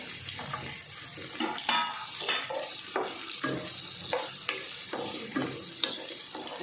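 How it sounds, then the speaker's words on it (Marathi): Green chilies and raw mango frying in a pan on a gas stove, with steady sizzling and occasional stirring scrapes running throughout, close and moderately loud. "गॅस कमी करते मिरच्या टाकून घेते कैरी टाकली"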